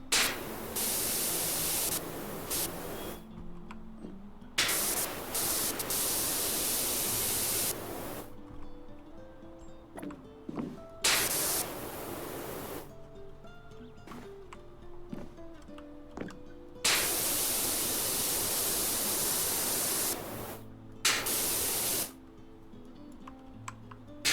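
Pressure washer spray from the video game PowerWash Simulator comes in long, loud hissing bursts that switch on and off repeatedly, with quiet gaps and faint game sounds between the blasts.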